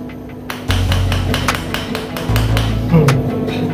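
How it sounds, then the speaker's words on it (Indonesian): Wooden mallet crushing dried maggot multivitamin capsules with repeated sharp taps in an uneven rhythm, close and fairly loud, over a low background hum. "Ini saya hancurinnya pakai palu kayu kayak gitu."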